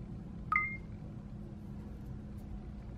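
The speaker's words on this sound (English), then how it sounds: "This is a good scan sound." A single short electronic beep from a barcode scanner app signals a good scan, clear and tonal, over a faint background hum, then nothing more.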